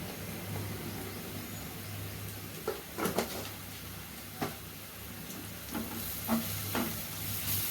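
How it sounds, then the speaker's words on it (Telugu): Prawns fry with ginger garlic paste in a pan, a steady sizzle under a low hum, with a few scraping stirs and clinks of a utensil against the pan. "అల్లం వెల్లుల్లిపాయ పచ్చి వాసన పోయే వరకు కొద్దిగా సిమ్లో వేసుకోండి"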